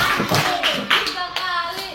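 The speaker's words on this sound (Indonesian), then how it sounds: "Tepuk dua kali." A group of children claps in unison during a classroom lesson, with a couple of sharp, close hand claps and faint voices around them.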